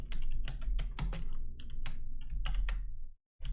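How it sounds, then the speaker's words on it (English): Rapid clacking of keys on a computer keyboard, irregular bursts of taps close up, with a short pause near the end. "I'm typing something."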